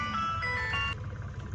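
A Suzuki Khyber pickup pulling away in first gear, with a steady engine whine and tonal drone that shifts slightly before settling into a lower rumble.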